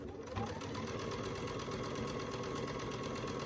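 A sewing machine stitches a quilt top from the very edge, its motor humming in a fast, steady rhythmic chatter, faint and continuous without any voices.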